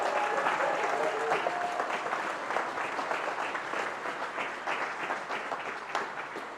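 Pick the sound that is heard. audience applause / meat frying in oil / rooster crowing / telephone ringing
audience applause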